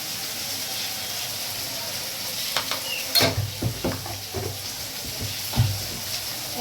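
Curry sizzling in a pan with cumin paste added, a soft steady frying hiss broken by several scraping stirs of a spoon against the pan.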